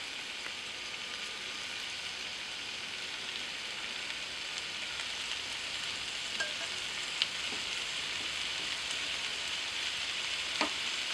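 Butternut squash and lentils being stirred in a pot with ginger and garlic, a steady soft sizzle with faint scraping and occasional light clicks of the spoon, close and even, no talking.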